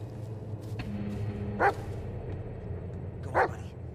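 In the Blair Witch video game, a dog barks twice, about two seconds apart, each bark short and moderately loud over a steady low rumbling ambience.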